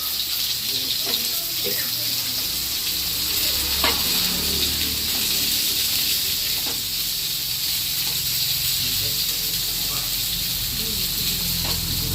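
Bombil, Bombay duck fish, fries in a pan with a steady, close hiss of sizzling oil and occasional small pops, continuous throughout with no voices.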